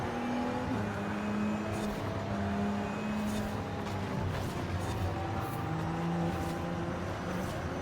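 A Nissan GT-R R35 races in the video game Forza, its engine droning steadily with shifting pitch as it accelerates and holds speed, loud and continuous with no pauses or talk.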